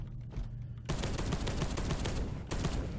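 Rapid automatic gunfire from a weapon in Space Hulk: Deathwing, a dense close burst of shots starting abruptly after a quiet moment and rattling steadily to the end with a brief gap near the finish.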